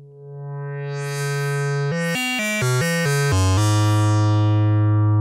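Worng Acronym synthesizer wave output: a loud, buzzy harmonic-rich tone that holds a low drone, then steps through a rapid series of pitch changes before settling on a lower sustained note.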